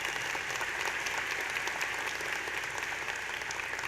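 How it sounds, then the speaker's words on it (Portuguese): Steady, dense applause from a large audience at a marketing conference talk, clapping for the product team, continuing evenly without a break. "Uma salva de palmas para o time de produto aí"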